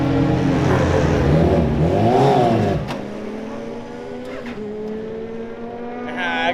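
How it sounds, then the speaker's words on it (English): A homebuilt formula race car's engine roars loudly at high revs, then drops to a steady lower drone as it rolls into the pit lane, with no talk over it. "I brought the car into the pit lane"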